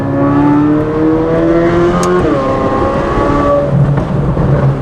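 Corvette C8 Z06 with a titanium exhaust holding a loud, close, high-pitched rev that wavers briefly midway, then settles into a lower, rougher idle-like drone.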